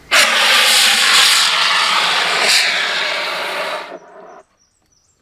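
A fire extinguisher blasts a loud continuous hissing roar into a wrapped cloth to make dry ice, holding steady for about four seconds before cutting off into near silence.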